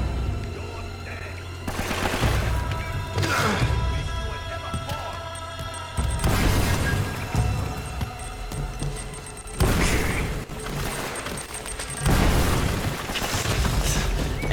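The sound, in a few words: grenade explosions in Uncharted video game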